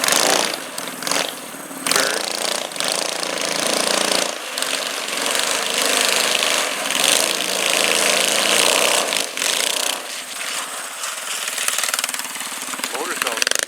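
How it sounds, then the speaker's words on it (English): Small go-kart engine running steadily at a loud, constant drone with rattly mechanical texture, close by throughout. "Motor sounds pretty good."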